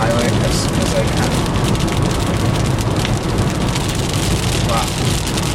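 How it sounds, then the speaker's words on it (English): Heavy rain during a Florida thunderstorm pelts a car while storm chasing, large drops drumming loud and constant at close range, with a faint low rumble beneath the downpour. "Some large drops falling at me."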